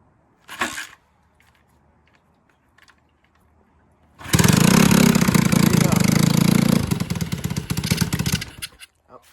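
A cold motorcycle with a choke fails on one brief kick attempt, then catches on a second kick and settles into a loud, steady, close idle for several seconds before dropping off.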